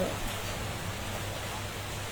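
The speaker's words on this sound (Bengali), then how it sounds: "কালবৈশাখী ঝড়, ঢাকা শহর বৃষ্টি হইতেছে" Rain falls during a Kalbaishakhi storm in Dhaka, a dense, even hiss that continues without pause at a moderate level.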